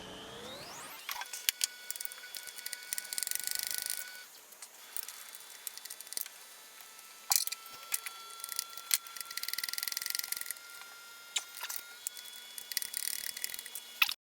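Quiet, close ratchet wrench clicking in short bursts while nuts come off a pump, with crisp ticks and brief pauses between runs, alone with no talk.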